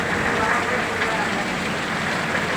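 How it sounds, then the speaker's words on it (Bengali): Heavy rain patters down in a dense, unbroken hiss of drops striking surfaces, close and steady throughout. "বৃষ্টি হচ্ছে রুমঝুমাঝুম"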